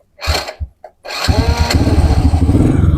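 After a few short cranking sputters, a motorcycle engine catches and settles into a steady, loud, close idle with a rapid regular thumping rhythm.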